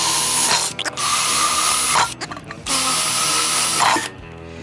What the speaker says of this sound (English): So now take your drill.